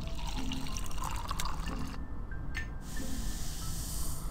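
Catalyst liquid pours in a hissing, splashing stream, with a short gurgling, spraying burst partway through. The sound is fairly quiet and close, and no one talks over it.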